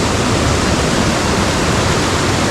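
Water from the Paathanpara waterfall, a hidden Kerala falls, rushes over rock in a steady, loud, broadband roar that holds unbroken throughout, with no voices over it.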